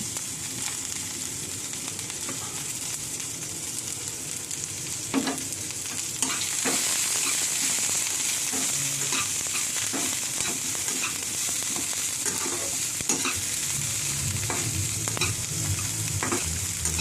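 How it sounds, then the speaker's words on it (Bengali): Beans, chopped flat beans and chopped green chili frying in a pan, giving a steady sizzle with occasional stirring scrapes and clinks, growing louder and denser partway through, with no talk. "ভাজা ভাজা হচ্ছে।"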